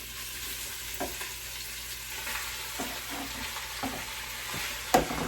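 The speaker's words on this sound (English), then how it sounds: "my onion is actually starting to boil, or starting to fry. So I'm going to put the meat in." Onion and meat fry in a pan for Czech goulash, a soft steady sizzle with a few light stirring scrapes and one sharper knock near the end, fairly quiet and with no voices.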